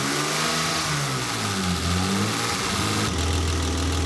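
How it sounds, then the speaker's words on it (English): A BMW E30's engine is held at a steady 2000 rpm rev, a loud, continuous close-up drone whose pitch wavers slightly before settling into a lower, even tone. "I'm going to rev it up again to 2K."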